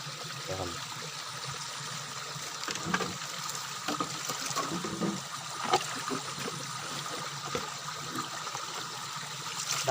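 A natural spring trickles steadily from a hole into a small well. Water flows in a soft, continuous wash, with faint splashes and a few background sounds.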